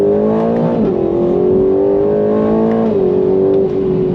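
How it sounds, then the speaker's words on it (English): A 2025 Aston Martin Vantage V8 engine pulls hard under throttle, its loud, steady harmonic roar rising in pitch through two gear changes, heard up close from the cabin with no talk. "God, that V8, the V8. On throttle, here we go."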